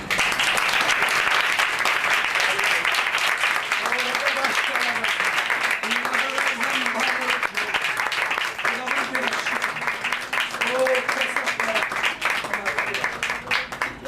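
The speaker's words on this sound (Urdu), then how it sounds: "آئیے سب ایسے خدا کے لیے تالیاں" A church congregation claps for God during a worship service, steady, dense applause filling the room without a break, with voices murmuring and calling out beneath the clapping.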